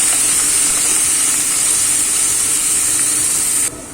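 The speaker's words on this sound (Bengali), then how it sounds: "এখানে দিয়ে দেবো আমি দুটি মাঝারি সাইজের পেঁয়াজ কুচি দিয়ে আমি নাড়িয়ে নিচ্ছি।" Chopped onions, two medium ones, frying in a pan after dried chillies, producing a loud, steady hiss and sizzle close up that cuts off abruptly near the end, with no talking.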